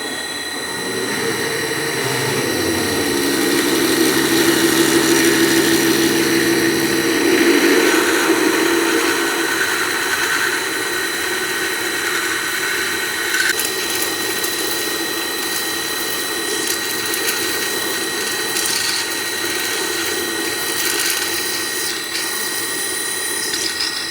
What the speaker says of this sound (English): Half-inch drill through now.